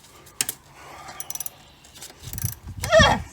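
A ratchet wrench loosens a bolt, giving a short run of quick, light mechanical clicks along with handling knocks and a louder scraping rustle near the end.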